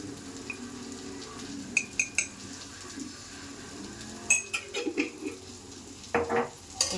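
A spoon stirs chilli and coriander powder masala frying in oil in a metal pan, giving a low sizzle under scattered clinks and scrapes against the pan, close and moderately quiet, with no talking.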